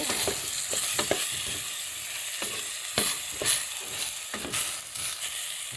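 Chicken pieces sautéing with aromatics in a hot pan for tinola, a steady loud sizzle broken by repeated scraping stirs of a spatula against the pan, with no talking.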